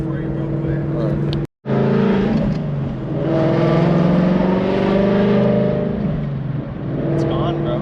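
A Ford Mustang engine with a slight surge at idle runs close and loud inside the car, its steady drone rising and falling gently with a brief dropout, while people talk over it.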